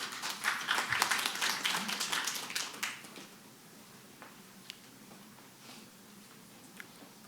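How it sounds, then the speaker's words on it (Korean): Audience applause at a public architecture conference in 2019, a loud burst of clapping for about three seconds that quickly fades, followed by quiet room tone with a few faint clicks. "큰 박수로 맞이해 주시기 바랍니다."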